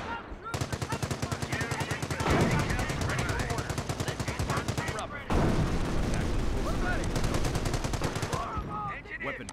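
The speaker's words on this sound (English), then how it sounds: "There's ground troops firing on us!" Dense gunfire and artillery from a Company of Heroes battle, rapid machine-gun bursts rattling continuously and loud with heavier booms mixed in, broken by one brief gap midway.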